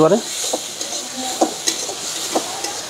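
Poppy seed paste and green chili paste frying in a pan for a stuffed pointed gourd dish, a soft steady sizzle with a few sharp spatula scrapes against the metal.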